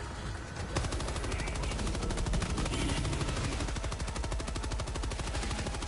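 Rapid automatic gunfire in the Helldivers 2 shooter, a dense sustained burst of shots in quick regular rhythm lasting several seconds, loud and close, with occasional brief voices.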